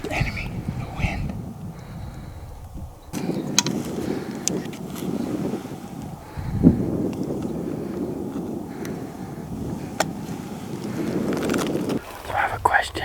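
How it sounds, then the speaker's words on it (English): Wind gusts across the open desert during a bow hunt for mule deer, a steady low rumbling roar with buffeting on the microphone that swells and eases over about thirteen seconds, with no clear voice. "Bow hunter's worst nightmare. Or worst enemy, the wind."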